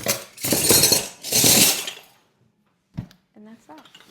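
Metal silverware gathered up for donation, two long jangling bursts of clinking cutlery close by, then a brief knock and speech.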